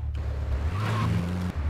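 A BMW M3 in the Grand Theft Auto 3 RealGTA3 mod revs with a deep, truck-like engine note, rising briefly in pitch before dropping, with a short tire squeal over the game sound.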